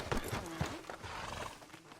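Horse hooves clip-clopping on a town street in Red Dead Redemption 2, a brisk close rhythmic clatter of steps with faint game voices and background sound underneath.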